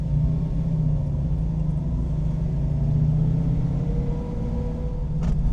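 A restored Sunbeam Tiger's engine runs smoothly while the car is driven, a steady low droning rumble with a constant mechanical hum, heard close from inside the cabin with no one speaking.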